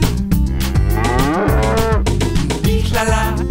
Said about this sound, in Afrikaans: op my plaas is daar 'n koei